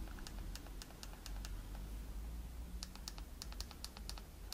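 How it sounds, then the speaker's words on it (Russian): Sharp, crisp clicks come from the buttons of a Samsung S24 Ultra fitted in a liquid-silicone MagSafe case. Several distinct presses sound close, in two separate bursts over a low steady background hum. "Если говорить по поводу кнопок нажатия, я не знаю, слышно вам или нет, нажатие четкое"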